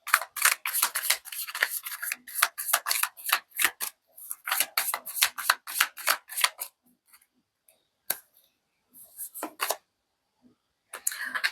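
A deck of tarot cards being shuffled: quick runs of crisp, papery flicks and riffles, close and fairly loud, broken by short pauses and a few isolated snaps near the end.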